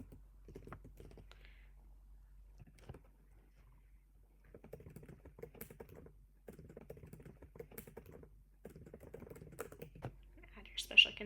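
Computer keyboard keys tapped in short uneven bursts of typing, fairly close and clear against a quiet room, with a louder click near the end.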